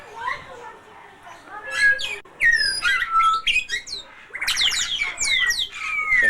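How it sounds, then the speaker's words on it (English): An African grey parrot at a South African bird park gives a series of loud whistles, squawks and chirps in bursts, close by, with brief quieter gaps between calls. "An African gray parrot."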